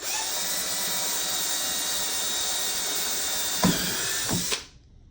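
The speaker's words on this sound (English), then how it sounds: "I'm going to drill the holes for each wire" A power drill whines steadily at high speed for several seconds, then two brief bumps as it bites through wood, before stopping abruptly.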